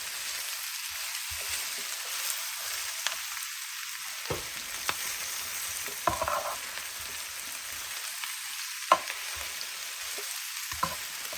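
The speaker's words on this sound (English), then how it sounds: "So let's move them on down and make sure we can sear the onions and everything." Onions and potatoes fry and sear in an open pan, a steady close hiss of sizzling with occasional sharper pops and crackles throughout, no voices.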